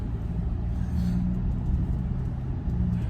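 A 2024 Ford F-150 Raptor pickup drives with a steady, deep engine rumble and constant road noise heard from inside the cab; nobody talks.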